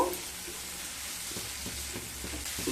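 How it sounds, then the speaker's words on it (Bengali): Vegetables for sevai upma frying in a pan, a dense steady sizzle close by with soft stirring scrapes toward the end and no speech. "এবার সবজিগুলোকে প্রায় নাইনটি পারসেন্ট ভেজে নেব"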